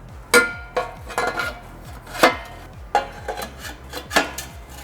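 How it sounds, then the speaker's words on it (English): Metal exhaust tip elbows for a 2022-on Subaru BRZ AWE Track and Touring Edition system slid on and fittings snugged, a series of sharp metallic clanks and taps at irregular intervals, close and fairly loud, with no talking. "we're gonna slide our tip elbows back on, snug everything up, and get ready for final fitment"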